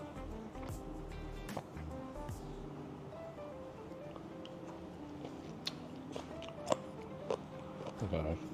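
Crunchy chewing of clams dressed with cucumbers, soy and vinegar at a Tokyo restaurant, close and moist with soft bites, set against restaurant clatter and nearby voices.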